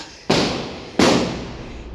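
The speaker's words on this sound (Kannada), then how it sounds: "ಪಟಾಕಿ ಸೌಂಡ್ ತುಂಬ ಕೇಳಿಸಿದೆ ಕಿವಿನೇ ಮುಚ್ಚೋಗ್ತಾ ಇದೆ" Two loud, sharp firecracker bursts during a Diwali celebration at an office, about 0.7 seconds apart, each blast followed by a fading rumble of echo, with no talking.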